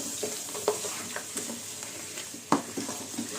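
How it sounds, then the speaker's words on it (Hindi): Pulao masala frying on high flame for Hyderabadi chicken aloo pulao, a close sizzle broken by repeated spatula stirs and scrapes, one sharper clack partway through. "अब फ्लेम को हाई कर दीजिए, हाई फ्लेम पे इसको कुछ सेकंड के लिए भून लीजिए।"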